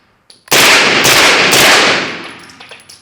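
A rapid burst of MP5 submachine gun fire, loud and close, running for about two seconds before fading into a ringing echo, with no talking.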